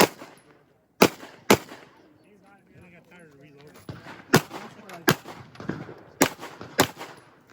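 Pistol shots ring out at a USPSA practical shooting match, several sharp, loud cracks spaced irregularly, some in quick pairs, with people talking faintly between them.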